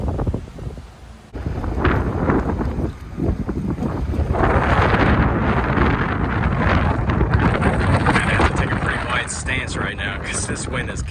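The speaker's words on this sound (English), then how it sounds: "that wind is so strong you're kind of exposed out here" Strong wind on an exposed Gulf Coast wharf in Ocean Springs, Mississippi, buffets the microphone with loud, continuous roaring gusts, while a person talks underneath it.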